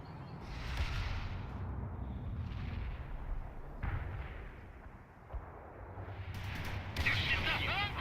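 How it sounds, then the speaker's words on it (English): A missile launch and explosions in the World in Conflict battle game, with deep rumbling blasts and bursts of crackling fire rising and falling, a loud burst near the end, and voices talking over parts of it. "Launch the missile now!"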